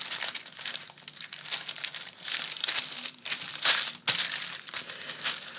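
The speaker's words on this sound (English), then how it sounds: "I'm going to fold them both right on the line." Paper pattern pieces are folded along the dart lines, producing continuous close crinkling and rustling of paper with small crunches and no voice.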